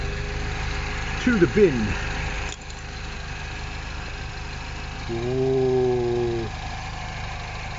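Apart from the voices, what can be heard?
Mini Cooper S engine idling while warming up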